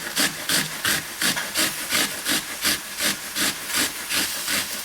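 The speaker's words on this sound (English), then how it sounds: "I have here a small onion, and I'm going to grate" A small onion being grated by hand, steady rhythmic rasping strokes, about ten evenly spaced scrapes in a row, close and clear with no talking.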